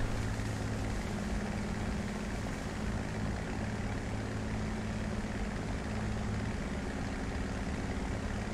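An aircraft engine drones in a flight combat game as the plane flies low toward a bridge for a strafing run, a loud, steady, unbroken hum with no voices.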